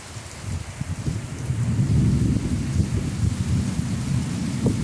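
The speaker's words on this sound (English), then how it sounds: "we're having a severe thunderstorm here in Dallas" A severe thunderstorm just north of Dallas, Texas, brings heavy steady rain with deep rumbling thunder rolling underneath, loud and continuous, swelling slightly midway.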